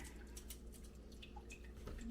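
Faint, irregular drips of natural egg dye fall from a lifted strainer, a few soft patters and tiny splashes over a quiet room hum.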